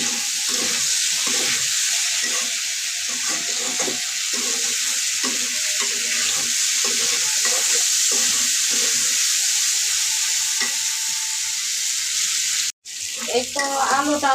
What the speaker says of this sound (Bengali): এই তো আলুটা আমার ভাজা হয়ে গেছে।